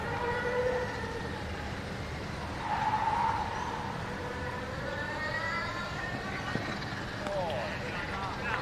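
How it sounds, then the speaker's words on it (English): Racing cars whine and skid in the distance in a car park, engines rising and falling behind a steady background hum. "And you might hear some racing car sounds in the background."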